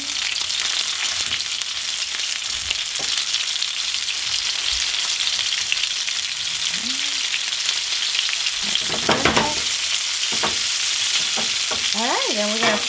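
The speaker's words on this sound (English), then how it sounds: "we're going to fry them from both sides for about 2-3 minutes" Potato and tuna patties fry in sunflower or canola oil in a pan over medium-low heat, a constant crackling sizzle with occasional clinks and scrapes of a utensil, and faint background sounds near the end.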